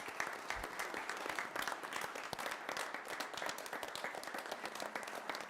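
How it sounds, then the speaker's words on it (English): A big round of applause at a city council meeting, with many hands clapping steadily and densely throughout, a continuous moderately distant crowd sound with no talk. "So if we could just have a big round of applause for Jamie."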